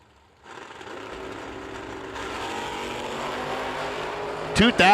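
Drag racing cars, a Camaro and a Super B, sitting at the starting line: a sustained engine drone that swells partway through, then a sudden loud roar near the end as they launch.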